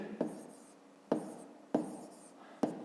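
Pen writing out a fifth-grade math solution on paper, four distinct scratchy stroke bursts spaced unevenly, close and quiet with no talk.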